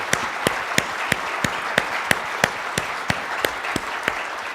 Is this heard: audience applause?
yes